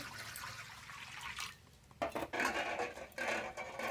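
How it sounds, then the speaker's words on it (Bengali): Water splashes and pours into a wok set on a lit stove, ready for boiling eggs and potatoes for egg curry, with clattering pot sounds and a steady liquid rush in bursts, close and fairly loud, no talking. "কড়াইতে জল দেব"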